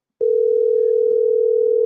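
A telephone dial tone sounds as a call is being placed: one steady, loud, continuous tone that begins abruptly and holds without break, with faint rustling beneath.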